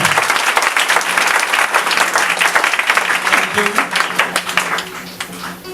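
A church congregation claps loudly to acclaim the Lord Jesus, the close, rapid applause dense at first and thinning slightly toward the end, with voices mixed into the crowd noise.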